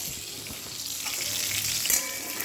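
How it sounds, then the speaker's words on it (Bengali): Fish sizzles in a little oil in a home kitchen pan: a steady, close crackling hiss that runs throughout with a slight swell near the end, with no voices. "একটু তেল দিয়ে দেবো মাছগুলো একটুখানি ভাজা করার জন্য"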